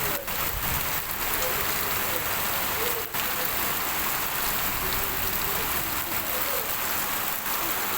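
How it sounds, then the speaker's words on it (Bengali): Heavy morning rain pours steadily on a village, a dense and constant hiss of drops striking surfaces, with faint voices in the background. "বৃষ্টির শব্দ শোনাচ্ছি আপনাদের।"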